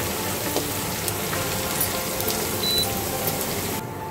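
Chicken pieces frying in a pan with spices such as Kashmiri red chilli powder give off a steady, dense sizzle that stays close and even throughout, with no talking.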